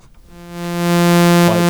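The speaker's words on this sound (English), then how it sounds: "The saw wave should just sound like this" A raw saw wave from the timbre oscillator of a Serge modular synthesizer, a steady buzzy harmonic-rich drone that swells up from near silence and holds loud and alone, with a slight wobble near the end.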